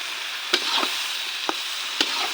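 Egg poured into a pan of small shrimp stir-frying in oil, a steady close sizzle broken by three sharp spatula taps.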